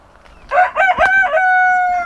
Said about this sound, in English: yes, Mr. Cockerel, we can hear you.